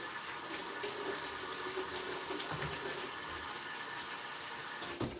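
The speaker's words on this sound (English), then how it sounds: "Wash my hands really quick." Hands are washed under a running tap, a steady close splash of water that runs unbroken, ending with a small knock, no voices.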